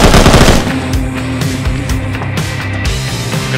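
Automatic gunfire in the video game Arma, loud and dense for the first half second, then continuing as a rapid rattling burst of shots throughout, with no talking.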